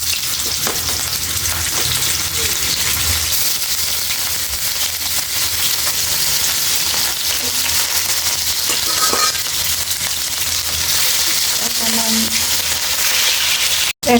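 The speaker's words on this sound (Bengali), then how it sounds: "এখন আমি মাছগুলো ভেজে নেব।" Pieces of rohu fish frying in hot oil in a pan, a loud steady close sizzle that runs throughout with occasional stirring clatter and a sharp knock at the very end, no talking.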